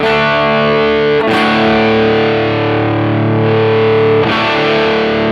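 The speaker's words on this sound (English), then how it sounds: "these are all levels of distortion which we can add" A heavily distorted electric guitar sustains a thick, buzzing chord, briefly re-struck twice, loud and continuous with no voices.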